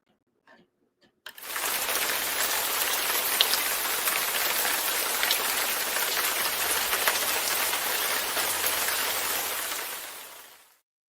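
Steady, dense rain pours down for about ten seconds after a short quiet start, a loud hiss of drops on surfaces that holds level and fades out at the end, with no voices.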